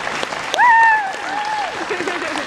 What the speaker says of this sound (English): Give applause to Jed Brophy.